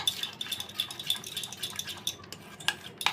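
A utensil stirs batter seasoned with pepper in a bowl, making quick, rhythmic clinking and scraping taps at close range.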